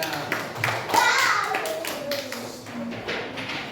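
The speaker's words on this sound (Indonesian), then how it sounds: "Tepuk tangan dulu." A class of children clapping their hands in a classroom, a short burst of brisk claps mixed with a teacher's voice and kids' chatter, moderately close.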